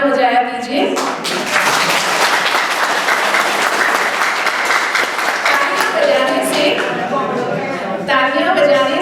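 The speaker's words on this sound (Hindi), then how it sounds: "दिल खोल कर तालियां बजाया कीजिए" Loud, sustained audience applause during a talk on disaster management and risk reduction by a speaker, a thick wall of clapping hands lasting several seconds, with someone speaking briefly before and after it.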